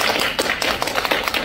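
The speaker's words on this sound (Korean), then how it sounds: "박수 한번." Audience members clap at a Democratic Party members' gathering, producing a brief, close patter of irregular hand claps with distinct sharp taps rather than a smooth roar.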